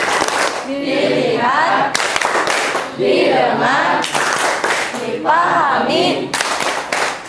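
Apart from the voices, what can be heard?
classroom rhythmic focus clapping (tepuk fokus)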